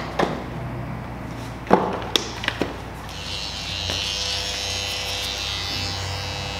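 Hair clippers with detachable blades buzz close up while a barber cuts a skin taper, a few sharp clicks and taps coming first before the steady high electric hum takes over and keeps running.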